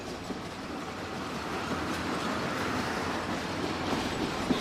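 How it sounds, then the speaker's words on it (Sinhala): A train rolls along the rails from Colombo Fort main railway station with a continuous rumbling, rattling noise. A few faint clicks and a light squeal come through close by, and no one speaks. "කොළඹ කොටුව ප්‍රධාන දුම්රිය ස්ථානයේ ඉඳලා කෝච්චියෙන් තමයි මම ගෙදර යන්නේ"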